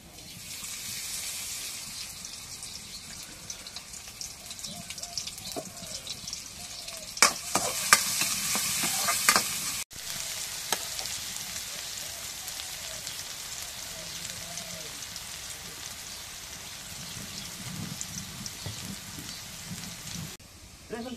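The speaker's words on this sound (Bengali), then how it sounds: "এখন পেঁয়াজ কাটা রসুন ছাঁচা দিয়ে দিই কড়াইয়ে।" Chopped onion and crushed garlic fry in oil in a wok, a steady crackling sizzle with scraping stirring strokes and one loud hissing burst partway through, heard close up with no talk.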